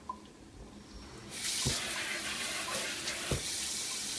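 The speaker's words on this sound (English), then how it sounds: "So just give it a quick rinse. Flip them and rinse the other side as well." Salted eggplant slices are rinsed under a kitchen tap; after a quiet second the water rushes on in a steady, fairly loud stream, with a couple of dull knocks as the slices are handled.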